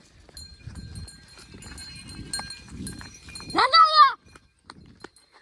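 Village goats head out to graze. Soft hoof steps and shuffling lead up to one loud, close bleat that cuts off abruptly, with a faint voice nearby.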